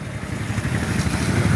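Motorcycles in a bike rally through Sangareddy town on Shivaji Jayanti give off a steady, low, rumbling engine drone that grows slightly louder toward the end.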